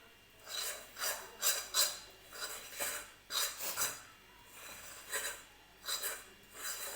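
A spoon scrapes and rubs a peanut chikki mixture across a plate in repeated short, rasping strokes, close and fairly quiet, with no talking.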